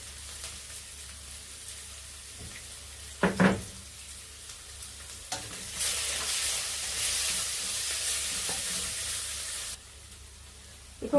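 Onions with salt frying in coconut oil, a soft steady sizzle broken by a couple of stirring scrapes, then a louder hissing stretch before it settles back to a quiet fry, no talking.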